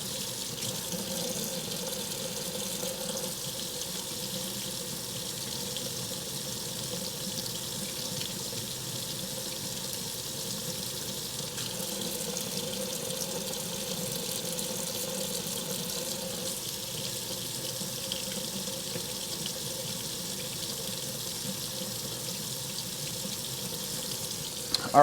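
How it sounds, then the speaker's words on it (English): Water runs steadily from a kitchen faucet as its temperature is adjusted, a constant close hiss and splash that stays even throughout, with no talk. "I just make very, very small adjustments on the faucet temperature head there, just to slowly get it down"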